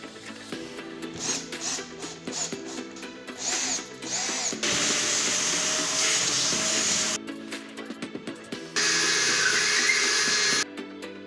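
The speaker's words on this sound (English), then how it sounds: "Here we make a perforation of about 8 or 10 millimeters" A power drill bores an 8 to 10 mm hole in a homemade Arabian-style lamp frame, loud close whirring bursts that start and stop, with two longer sustained runs of high-pitched drilling.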